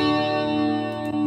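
A Valeton GP200 guitar processor plays a sustained distorted guitar chord with hall reverb switched off, the tone dry and buzzing, held briefly then cut short.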